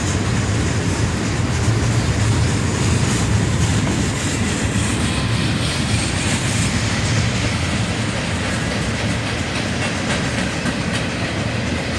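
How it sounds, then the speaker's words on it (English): A CSX manifest freight train led by two ES40DC locomotives rolls past southbound on a bridge, steady loud rumble with rhythmic wheel clatter from passing cars throughout. "A pair of ES40 DCs lead this CSX manifest train southbound."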